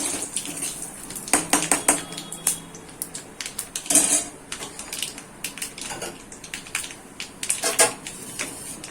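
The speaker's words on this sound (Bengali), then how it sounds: "একটু হাতার দিক দিয়ে ডলে দেবো" A metal ladle scrapes and taps against a pot as its side mashes mustard-laced Bengali tetor dal, giving irregular clinks and grinding rubs close by, with no talk.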